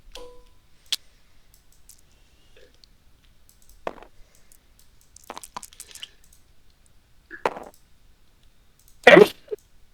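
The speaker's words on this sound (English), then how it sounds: "It's quite the violent sneeze." In near silence, a few faint clicks and rustles lead up to one sudden, sharp, loud sneeze right at the end.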